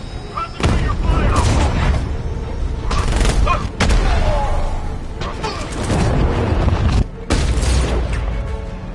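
Heavy gunfire in Batman: Arkham Knight, loud repeated shots and booming impacts over dense battle noise, with brief voices heard in the fray.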